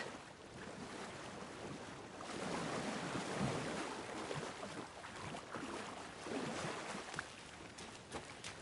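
Deep water churns and waves wash steadily in the video game Alan Wake, a soft broadband rushing with gentle swells, faint and continuous with no voices.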